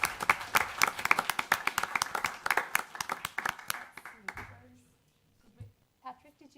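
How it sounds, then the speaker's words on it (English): A small group at a city council meeting gives a round of applause, dense clapping for about four seconds that fades out, followed by quiet with a few faint voices and stray sounds. "If we could have a big round of applause for her"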